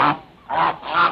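Goose or duck honking, in a 1951 film scene about poisoned ducks: three loud, raspy honks in quick succession, close by, with no talk over them.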